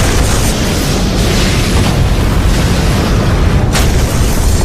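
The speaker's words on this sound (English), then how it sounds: "Massive secondary explosions." Loud, continuous roar of massive explosions, deep rumbling booms filling the whole stretch with no break, heavy and close.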